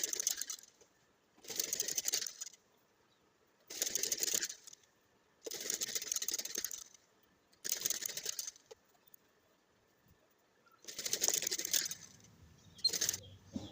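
Sewing machine stitching the side seams of palazzo pants, running in several short bursts of about one to two seconds separated by pauses, fairly faint and close with no talk.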